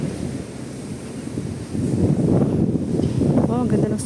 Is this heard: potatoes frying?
no